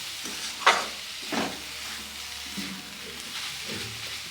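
Coconut and jaggery mixture cooking in a pan while being stirred, with a soft sizzle and a few scraping strokes of the spoon, fairly quiet and close, with no talking.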